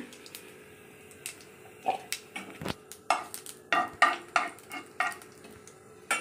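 Fish roe frying in a pan of oil for a Bengali bhindi-aloo chochori, heard as irregular sharp pops, clinks and scraping spatula strokes over a steady low sizzle, with no talking.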